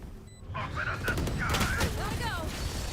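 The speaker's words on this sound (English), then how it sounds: "And gunfire will be exchanged between the teams" Gunfire traded between teams in a Valorant collegiate esports match, Tiffin University versus Heidelberg University. Quick bursts of shots and impacts sit under an excited commentator's voice.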